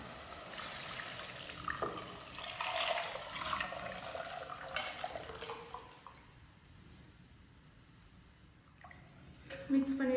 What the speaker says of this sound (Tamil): இப்போ நம்ம கரைச்சி வச்சிருக்க கொள்ளு தண்ணி வந்து இதில் ஆட் பண்ணிடலாம்.